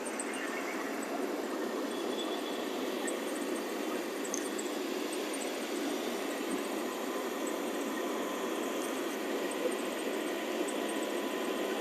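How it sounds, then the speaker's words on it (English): Jeep Wrangler engine idling with a squeaky belt, a steady close rumble and hiss holding even throughout, with a faint high squeal running above it. "Sounds like I got a little bit of a squeaky belt"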